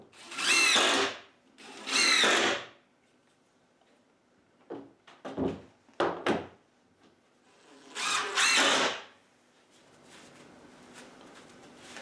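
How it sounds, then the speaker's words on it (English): A power drill drives screws into wood while building a rabbit house, in two long whirring bursts, then a string of short clicks and knocks, then a third long burst ending in faint rustling. "let's get some screws put in that now to hold it in place"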